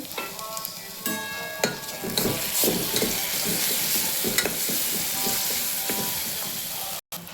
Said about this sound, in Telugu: అల్లం వెల్లుల్లి పేస్ట్, పసుపు మంచిగా వేగినాయి.